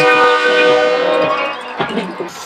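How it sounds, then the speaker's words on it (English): A loud, sustained train horn blares with rich harmonic tones for over two seconds over a noisy crowd at a high school football playoff game, fading slightly near the end. "Carencro brought a train horn."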